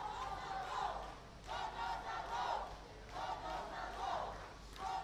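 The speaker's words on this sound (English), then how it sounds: "Josephian crowd has found its voice here at Havelock Park." St. Joseph's College supporters roar and chant in the stands at a schools rugby match at Havelock Park, a loud, sustained crowd noise swelling in repeated surges.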